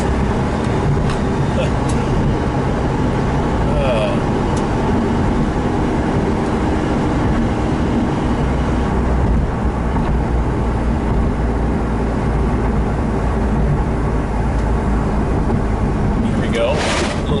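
Car with a swapped naturally aspirated Subaru EG33 engine driving on the road, a loud steady drone of engine and road noise heard from inside the cabin.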